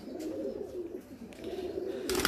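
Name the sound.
pigeons cooing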